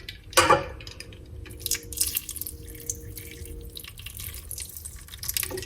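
Water poured into a container while homemade butter is being made, opening with a brief splash and then trickling and dripping in uneven bursts, close by and fairly quiet.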